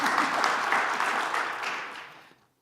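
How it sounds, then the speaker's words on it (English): Seminar audience on autonomous vehicles gives a round of applause, dense steady clapping from many hands that holds evenly and then fades out toward the end. "please join me in giving them a round of applause, please"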